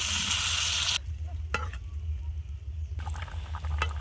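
Egg curry with potatoes, bori and tomato in a pan: a loud hissing sizzle as water hits the hot masala cuts off abruptly, leaving a quieter simmer with a low hum and occasional sharp stirring clinks.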